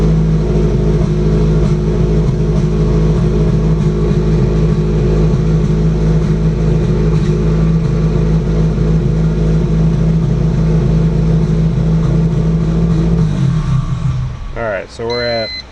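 A Subaru GC8 idles loud and steady through a cold start while its tune is adjusted, the engine note holding constant before cutting off near the end, followed by a few brief beeps.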